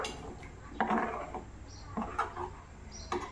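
Chole masala curry with sweet curd being stirred in a pot, a ladle scraping and clinking against the metal in several irregular knocks and taps, close and moderately loud, with no voices.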